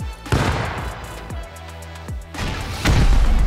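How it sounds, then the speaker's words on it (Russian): A car blown up in the survival game Rust: a series of heavy booms and crackling blasts, several sharp impacts and a loud rumbling burst at the end. "Тачку взрывают."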